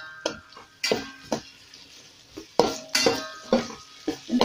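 Garlic, ginger and green chili sautéed in a pan for ghee rice, heard as repeated sharp spatula scrapes and clinks against the metal pan in an uneven rhythm, close and fairly loud with a light sizzle underneath.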